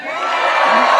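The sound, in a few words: rally crowd cheering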